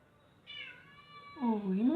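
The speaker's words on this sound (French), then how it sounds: "il y a mon petit chat là qui me parle." A pet cat meows nearby, giving two drawn-out calls, the second louder and lower than the first, in a quiet indoor room.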